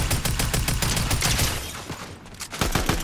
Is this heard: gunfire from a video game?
yes